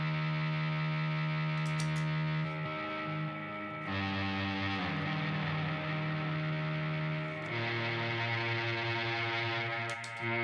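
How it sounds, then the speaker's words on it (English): A cello-style string patch played full wet on a Mel 9 synth, through a Dream 65 amp with its reverb turned up and a Keeley Dark Side delay, sustains rich drawn-out bowed notes. Each pitch change blurs into a long washed-out echo tail, and no one speaks. "that reverb, I turned it up on the Dream 65, and the delay is just coming from the Keeley Dark Side"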